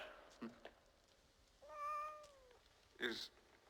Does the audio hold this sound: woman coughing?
no